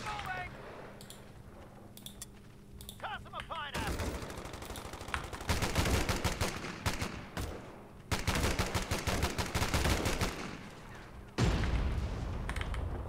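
Bursts of gunfire and impacts in Company of Heroes 3, the WWII strategy game, starting after a quiet stretch and coming in loud dense volleys with short pauses, with a voice talking at times.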